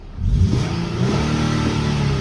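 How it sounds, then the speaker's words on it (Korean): Naturally aspirated VQ engine in an Infiniti Q70 sedan revving hard for about two seconds, a loud, close, rising mid-pitched roar that holds steady near its limiter, with no talking over it. "이 VQ 엔진 소리 자연흡기 엔진 소리 한번 들어보겠습니다"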